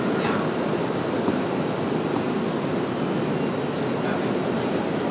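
An airliner departs RDU with a dense, continuous engine roar, loud and even throughout, a faint voice barely present underneath.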